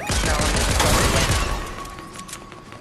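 Enemy gunfire in Fortnite rattles out as a dense burst of rapid shots, loud and close for the first second and a half, then thinning and fading away.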